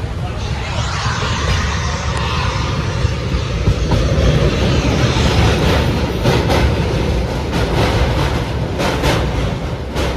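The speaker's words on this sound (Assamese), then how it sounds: "এইফালে ট্ৰেইনখন ষ্টাৰ্ট দিলেগে" A passenger train pulls away from a station in Assam, a loud, steady rumble with faint rhythmic clatter building under voices talking nearby.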